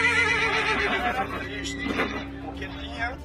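A horse named in a story of animals mourning lets out a long, wavering neigh over a dense, steady background, with overlapping voices and crowd-like murmur around it.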